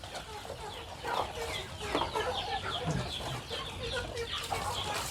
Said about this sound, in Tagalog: May manok, oh, kapatong sa ating kambing.